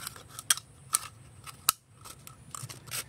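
Scissors snipping through plastic Yakult bottles, a few sharp crisp cuts spaced irregularly at close range, with no voices.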